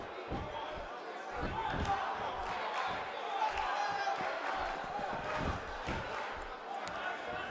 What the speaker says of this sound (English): The crowd absolutely loves Rob Van Dam